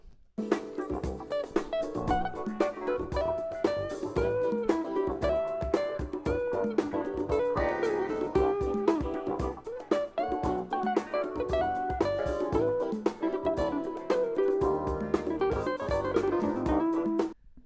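A busy instrumental passage with a jazz guitar playing fast, fluid melodic runs over a full band, with continuous rhythmic backing throughout and no talking.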